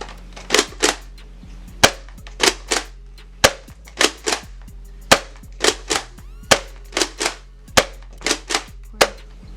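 Nerf Rival Reaper blaster, Overwatch edition, firing a rapid series of about fifteen sharp, close snapping shots in an uneven rhythm, with no talking.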